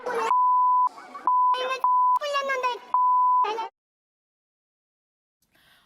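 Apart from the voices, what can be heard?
censor beeps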